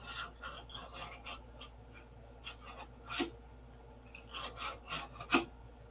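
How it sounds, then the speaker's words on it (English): Dry scratchy strokes of sandpaper shaping the nose of a model P-47 aircraft, irregular close rubbing passes with a few sharper scrapes, quiet and without talk. "So now we'll sand this to shape."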